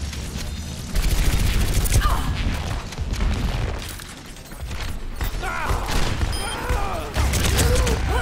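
Turret gunfire in Overwatch, rattling bursts that come and go in waves amid in-game clatter and booms, loud and close, with a player talking over parts of it.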